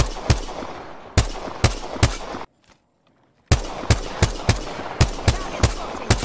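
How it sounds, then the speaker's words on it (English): Sharp, close single shots and quick bursts of gunfire in Apex Legends ring out steadily, broken by one brief silence before the firing resumes. "Taking fire, friend. Listen up, I'm getting shot at."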